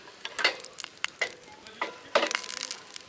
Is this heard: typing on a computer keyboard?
no